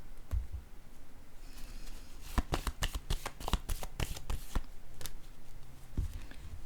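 Oracle cards handled and laid down during a reading: a run of crisp papery flicks and taps, several quick card snaps in a cluster, close and fairly quiet, with no talking.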